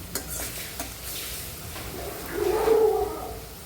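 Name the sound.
bitter gourd pieces frying in pan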